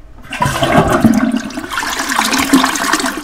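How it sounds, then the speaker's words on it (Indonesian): A toilet flushes in a cubicle of a school restroom. It is a single loud, close rush of swirling water that runs for a few seconds, with no voices over it. "tiba-tiba toilet di kubikel nomor 2 bunyi flush"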